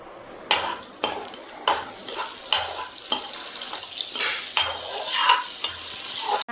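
A spoon stirs caramelized sugar with nuts and butter in a pan, giving repeated scraping strokes roughly every half second over a soft sizzle, close and fairly quiet.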